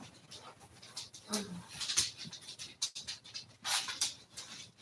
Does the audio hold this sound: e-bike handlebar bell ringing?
no